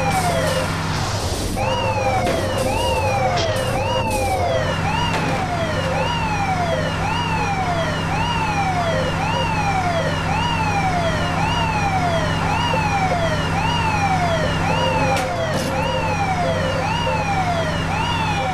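Fire engine siren in the Matchbox Emergency Patrol video game, wailing in a steady up-and-down sweep throughout, loud and continuous over a low engine hum.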